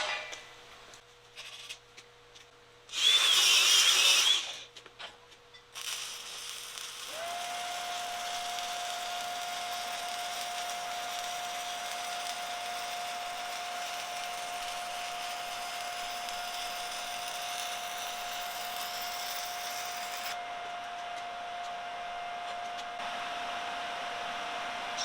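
A welding bead run on structural steel during mobile welding in a warehouse: a steady, even crackling hiss holds for about fourteen seconds over a constant machine hum, then stops abruptly. A brief louder burst comes early, before the arc starts.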